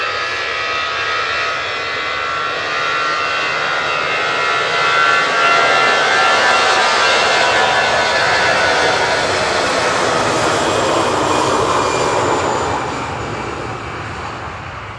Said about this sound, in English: Departing in the foreground, we've got EasyJet departing to Nice